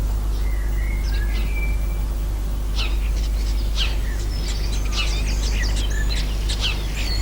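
A robin sings in a back garden of a city square, its thin high warbling phrases in scattered bursts, moderately near, over a constant low rumble of background hum.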